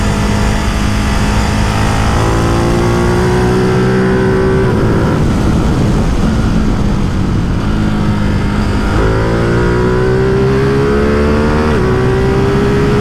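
A reprogrammed Ducati Multistrada 950S motorcycle ridden fast on the road, its engine droning loud and continuous with rising and falling pitch through gear changes, wrapped in heavy wind roar.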